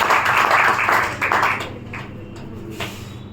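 Audience applause at a leadership meeting in Haridwar, a dense clapping wash for about a second and a half that then fades to scattered claps.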